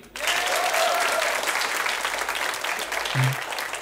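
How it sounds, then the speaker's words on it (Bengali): Dense, sustained audience applause fills a studio talk show from start to finish, steady and close, with a brief low thump near the end. "জোর একটা হাততালি"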